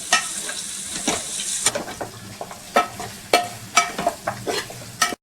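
Mango mutton curry stirred in a pan, a spoon scraping and clattering in irregular close knocks over a steady sizzle, with no voices.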